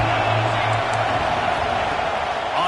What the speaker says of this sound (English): the home crowd going absolutely bananas